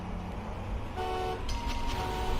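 A sustained, slightly thin semi-truck horn blares in the video game Hot Wheels: MechaniX, held for over a second over a low engine drone, sounding more like a car than a big rig.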